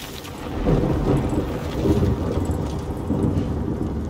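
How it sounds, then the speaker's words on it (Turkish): Heavy rain and rolling thunder from the video game Death Stranding, a dense, continuous wash of downpour with deep rumbles swelling underneath, loud and close with no voices. "Asit yağmuru mu geliyor?"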